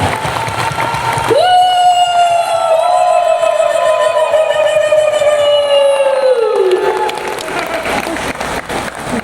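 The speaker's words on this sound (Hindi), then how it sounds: "एक बार जोरदार तालियां अपने लिए बजा लीजिए, जोरदार मतलब जोरदार तालियां" A seminar audience claps loudly and steadily throughout, with a long, loud sustained tone held over the applause for several seconds before it fades back to clapping alone.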